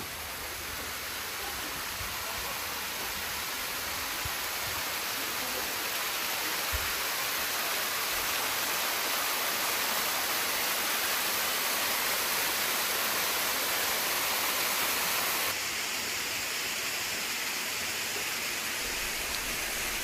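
Steady, dense rushing of falling water, unbroken and fairly loud throughout, from an artificial waterfall heard close by, seen past a traditional hanok reading room.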